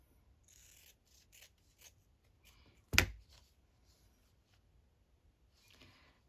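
A single crisp snip of scissors cutting through woven fabric, close and clear, with faint handling rustles before and after in an otherwise quiet room.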